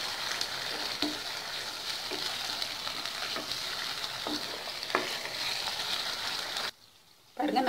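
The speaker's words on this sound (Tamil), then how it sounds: "நல்லா கலந்து விட்டுக்கலாம்." Mint paste mixed with a few drops of lemon juice and salt being stirred in a pan for mint rice, giving a steady scraping, sizzling texture with soft periodic knocks of the spoon, then a brief near-silent gap.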